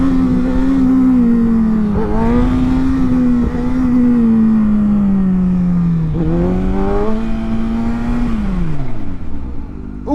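A 2019 Kawasaki ZX6R sport bike revs hard and close, its engine pitch climbing and dipping through sustained, loud high-rpm pulls with a smooth, rising whine.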